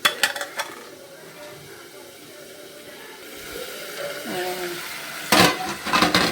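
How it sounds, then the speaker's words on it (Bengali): Flat bean (shim) mash is tempered and stirred in a hot pan, with soft sizzling, a burst of utensil clatter at the start and another near the end, and someone talking nearby. "আর এখানে এই যে সিমের ভর্তা বাগার দিচ্ছি।"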